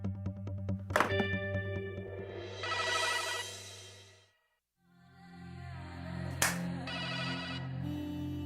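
A phone ringtone plays a bright melodic tune in two rounds separated by a short gap, with a sharp click or thunk at the start of each round.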